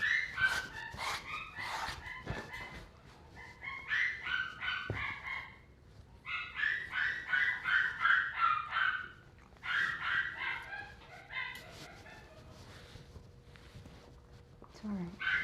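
A dog at a pet grooming salon in Tampa barks loudly in repeated bursts of sharp yips and barks, pausing between runs, close and prominent, with a person talking softly in between.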